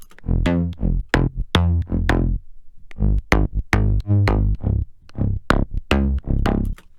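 Growling synth bass mid-tone layer for slap house in a choppy rhythmic pattern, each note short and punchy, with brief gaps between phrases, heard alone.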